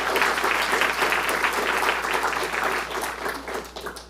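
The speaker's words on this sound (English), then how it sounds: "Yes, let's give them a round of applause." Sustained applause from an audience at a CreativeMornings New York talk at MAD, dense clapping holding steady for about four seconds before tapering slightly at the end.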